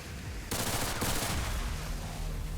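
Gunfire in XCOM 2 with the Long War of the Chosen mod: a loud burst of rapid shots starts abruptly, followed by a sustained rumbling echo.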